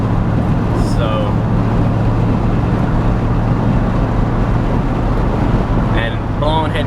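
A Honda Accord wagon with a blown head gasket drives along, its engine and road noise a loud, constant drone from start to finish, with brief squeaky chirps over the top.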